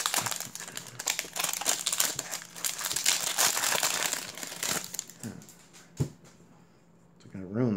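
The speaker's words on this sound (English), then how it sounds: "Cards getting them out of the damn packs." Foil wrappers of Topps Valor 2015 NFL card packs crinkle and crumple steadily at close range as packs are torn open, with scattered rustles and a few sharp crackles, fading near the end.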